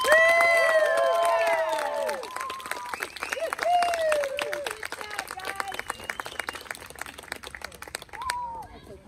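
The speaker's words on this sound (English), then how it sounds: "That is everyone. Give them a round of applause." Audience applause at a summer music performance, clapping that starts under loud cheering and whooping voices, then thins into scattered claps and calls before fading near the end.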